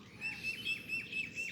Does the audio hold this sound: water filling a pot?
no